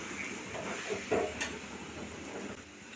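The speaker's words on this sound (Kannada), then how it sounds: "ಹಿಂಗೆ ನೀಟಾಗಿ ಅವನ್ನೆಲ್ಲ ಎಣ್ಣೆ ಒಳಗೆ ಫ್ರೈ ಮಾಡ್ಕೋಬೇಕು" Eggplants frying in hot oil in a home kitchen pan, a steady soft sizzle and hiss throughout with faint stirring clatter, close and alone without talk.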